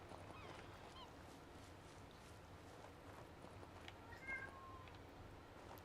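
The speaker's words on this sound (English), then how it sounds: "He's meowing at the door." A ginger male cat meows at a door indoors, the calls faint and distant against a steady low hum, with one brief, slightly clearer cry near the end.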